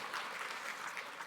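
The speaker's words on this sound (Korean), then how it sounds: "또 박수 나오셔야겠는데" Congregation applauding during a church talk at a mission center, dense continuous clapping from many people filling the room with no speech.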